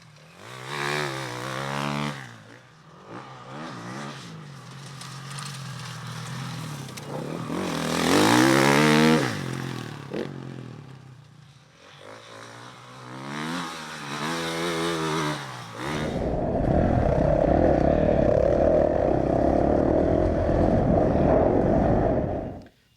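A KTM 450 dirt bike runs loud and close, its engine note rising and falling through revs with a harsh, buzzing roar before settling into a steady, full-throttle drone near the end.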